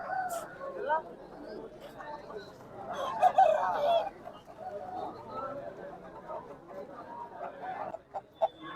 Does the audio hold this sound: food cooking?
no